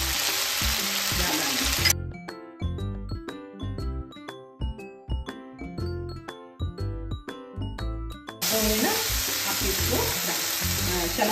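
Shredded cabbage with turmeric sizzles and is stirred in a pan, loud and close at the start and end, with a tinkling musical interlude taking over the middle.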